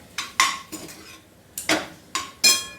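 Metal spoon scraping and clinking against a pan while potato bhaji with a pinch of sugar is stirred and sautéed, several distinct close knocks and scrapes in an uneven rhythm, no talk.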